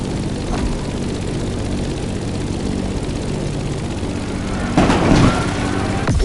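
Airplane engine drone during a descent toward landing in Honolulu in The Crew Motorfest video game, a steady propeller hum throughout with a brief louder swell and whoosh near the end.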